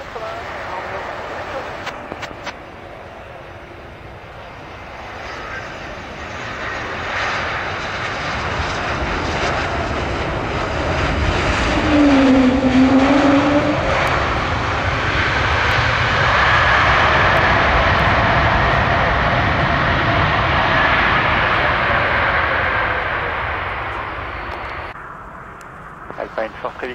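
Airliner jet engines at Paris CDG airport swell from a distant roar to a loud close pass and fade again, with an air traffic control voice talking over the rumble.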